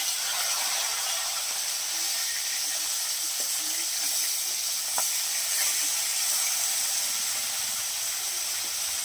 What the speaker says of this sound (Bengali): মাছটাকে একটু লাল করে ভেজে নিচ্ছে